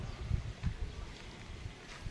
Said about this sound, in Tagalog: Mahalakas kasi hangin.